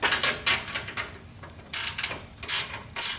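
A ratcheting 9/16 wrench snugs up the clamps on fabricated Pypes exhaust hangers under a 1976 Corvette restomod, heard as bursts of rapid, close ratchet clicks with short pauses between strokes.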